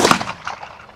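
A single shotgun blast at a sporting clays range, loud and sharp at the start, then a quick decaying echo rolling away across open ground.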